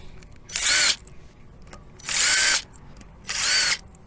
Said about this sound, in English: I'm using the impact driver just to remove things